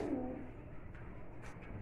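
Pigeons kept for sale at a market give a low, soft coo at the start, faint beneath background noise and crowd murmur.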